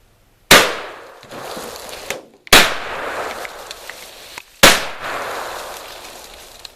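A TriStar Raptor A-TAC shotgun fires at jugs outdoors: three loud, sharp blasts spaced about two seconds apart, each followed by a ringing echo tail and a faint mechanical clack between shots.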